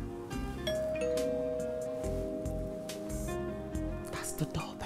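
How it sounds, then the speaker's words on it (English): A doorbell rings with a sustained ding-dong chime over background music and people talking. "That's the doorbell."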